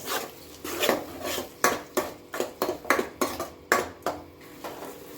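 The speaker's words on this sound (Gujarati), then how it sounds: "પછી તેને સરસ રીતે હલાવીને મિક્સ કરી દેવાનું." A spoon scrapes and knocks against a cooking pot while chickpea curry gravy is stirred and mixed, giving a steady run of close, rhythmic metallic clinks and scrapes with no talking.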